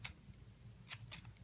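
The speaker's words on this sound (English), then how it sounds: "I'm going to take my fringe scissors, love these as well, and I'm going to take and I'm going to fringe the side that doesn't have the tape" Fringe scissors snip cotton paper for a dahlia, giving three faint, crisp cuts close by against a quiet background.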